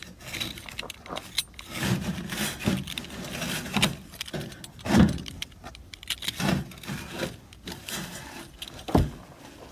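A sharp knife slicing through an old evaporative swamp cooler pad, giving repeated dry scraping and rustling strokes at close range with irregular rhythm, alone without talk.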